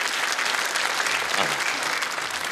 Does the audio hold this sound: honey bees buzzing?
no